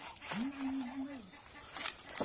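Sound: ducks

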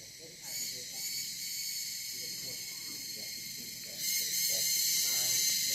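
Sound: crickets chirping loudly

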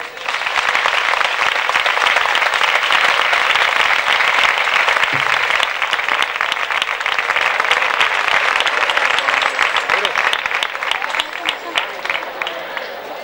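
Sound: applause welcoming the maestro

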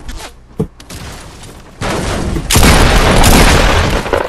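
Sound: shotgun fire in a video game

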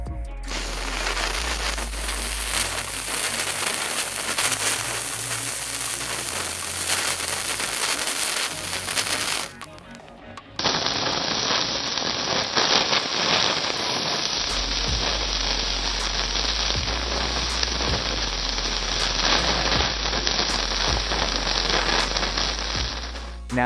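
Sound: burner lit and burning on lake ice

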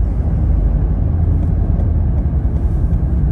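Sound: 2016 Ford Mondeo 2.0 TDCi estate driving

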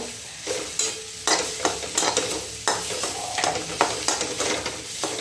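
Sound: chilli and turmeric spices sautéing in a pan

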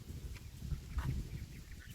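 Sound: ducks quacking

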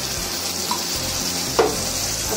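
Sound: water added to frying jackfruit curry, sizzling

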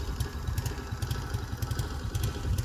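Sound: moped engine idling

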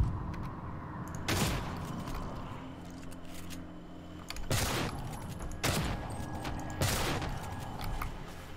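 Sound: gunfire from the player's gun in the video game Prey

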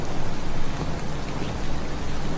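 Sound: heavy rain falling

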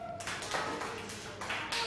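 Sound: children clapping hands

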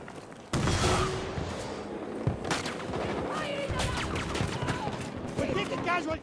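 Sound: gunfire in video game Battlefield 2042

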